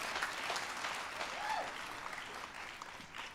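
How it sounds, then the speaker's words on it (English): A large crowd at a college commencement ceremony applauds the faculty with steady, dense clapping that holds at an even level for several seconds, heard from a distance with a faint voice underneath. "How about applause for our faculty?"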